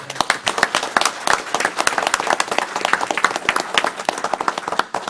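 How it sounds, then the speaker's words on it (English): Audience applause at a Suwannee County Board of County Commissioners meeting, a dense round of clapping from a room of people that runs steadily for several seconds with sharp individual claps standing out. "Let's give him a round of applause."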